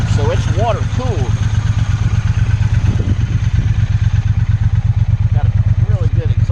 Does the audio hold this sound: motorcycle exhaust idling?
yes